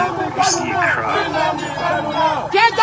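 A protest crowd on the streets of Abuja chants and sings together, a dense wall of many voices with rising shouted calls, close and loud throughout.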